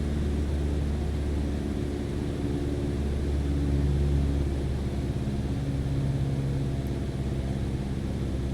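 A light airplane's engine drones at a steady, reduced RPM during a nose-down descent, a continuous close rumble with a low hum and airflow noise, no talk.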